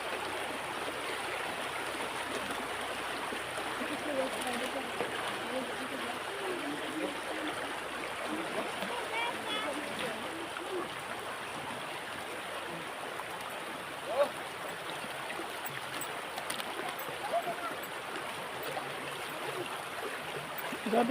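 Steady stream water flows and trickles throughout while someone bathes in a cold stream, a continuous close wash of noise with a few brief splashes and occasional talk.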